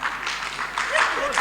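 Short burst of audience clapping at a Hindi hasya kavi sammelan comedy poetry show, moderately close and fairly even, with a voice talking over the applause.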